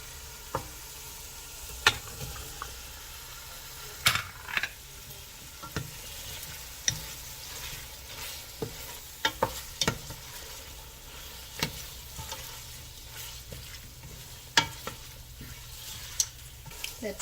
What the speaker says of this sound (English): Let's saute the linguica about 2 minutes